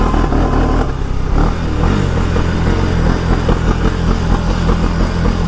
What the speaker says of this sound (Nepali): engine about to seize guys, सिज हो जाएगा ये इन्जिन